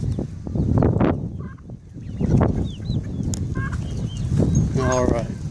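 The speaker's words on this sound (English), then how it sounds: "Big giant rooster with some geese." A big rooster and geese on a farm at Wickham Park in Brevard County, Florida, giving scattered clucks, honks and gobbling calls amid busy outdoor noise, with people talking in the background.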